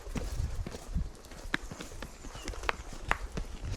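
A horse out hacking walks along with steady, rhythmic hoof clip-clops, close by, while occasional sharper knocks and light rustling sit among the footfalls.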